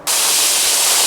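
A pressure canner vent releases a steady plume of steam while ground beef is home-canned; a loud, continuous broadband hiss that starts abruptly and holds without pause, with no voices.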